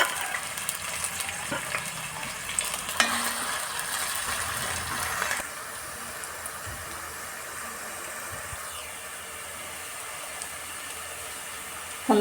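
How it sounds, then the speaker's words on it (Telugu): Onions frying in hot oil until brown in a home kitchen for garlic chicken curry, a steady close hiss and sizzle with a brief clatter early on, then settling into an even quieter frying noise. "ఆయిల్ వేడెక్కింది, ఉల్లిపాయ వేసుకుందాం. ఉల్లిపాయ బ్రౌన్ కలర్ వచ్చేదాకా వేసుకుందాము."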